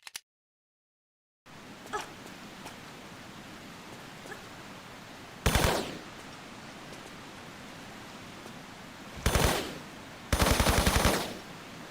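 Uzi submachine gun fire in a video game, with three short bursts of rapid shots cutting through steady background noise, spaced apart and fairly loud.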